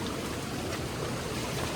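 A swollen stream in Konkan after heavy monsoon rain, rushing in a dense, steady broadband roar close by, unbroken and without voices.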